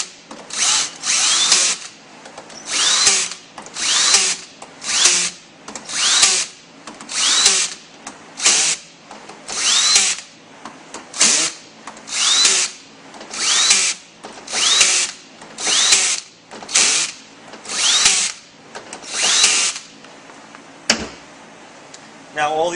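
A power tool runs in about fifteen short, evenly spaced whirring bursts while tightening the bolts on a W4A33 automatic transmission during a shift kit install, each burst close and loud with brief pauses between.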